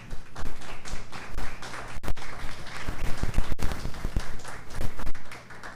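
An audience at a film festival poster talk applauds designer Rodrigo Toledo, a close, uneven round of clapping with sharp individual claps and occasional thuds, swelling and easing over several seconds.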